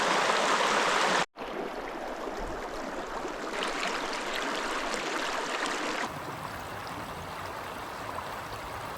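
Mountain river stream flowing in the high country, a steady close rushing and gurgling of water with a brief dropout near the start, no talking.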